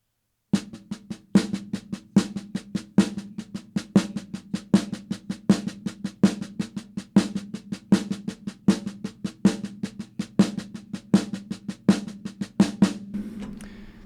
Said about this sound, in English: that would sound like this if we just did it on the snare